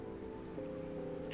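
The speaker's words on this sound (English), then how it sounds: "It rains heavier." Heavy rain in the Reverse 1999 video game, a steady dense patter that swells slightly louder partway through, with no talking.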